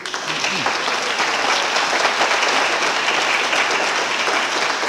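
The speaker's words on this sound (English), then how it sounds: "I'd like a nice round of applause" A television studio audience applauds guests at a variety show, producing a dense, sustained round of clapping that stays loud and even from start to finish, close and full.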